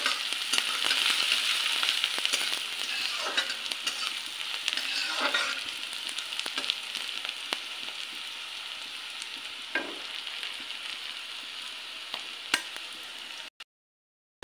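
Steady loud sizzling of onion, garlic and green chili frying in a hot pan for dal tempering, with occasional stirring scrapes and clinks, close by and continuous.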